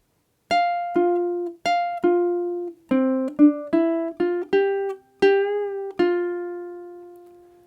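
Slow jazz ukulele melody, plucked note by note with clear gaps, about a dozen close, bright notes each ringing briefly and decaying, the last one sustained and fading out.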